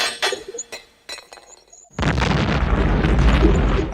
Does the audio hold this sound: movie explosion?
yes